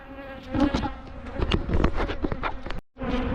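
A swarm of agitated honeybees near beehives buzzes loudly and close, individual bees zipping past in quick overlapping passes, with a brief cut-out near the end.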